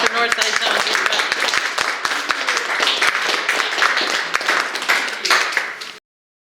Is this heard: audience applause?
yes